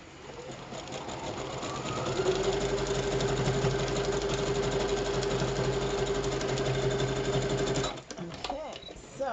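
A sewing machine stitching fabric for a craft project runs in a steady, fast mechanical whir for several seconds, then stops abruptly near the end, with talking over it.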